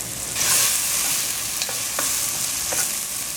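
Onions frying in a pot for a Caribbean fish broth, a dense close hiss of sizzling oil with a few faint stirring clicks, no voices.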